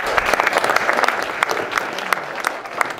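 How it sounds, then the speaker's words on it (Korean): Audience at a Korean government overseas-Korean policy briefing claps in applause, a close, lively burst of many hands with sharp individual claps standing out over the steady patter. "박수로 부탁드리겠습니다."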